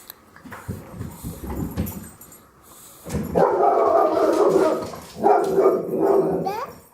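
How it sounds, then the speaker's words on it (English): A dog barks and yips several times amid household clatter and a person talking, the barks mixed in with voices nearby. "He's barking aloud."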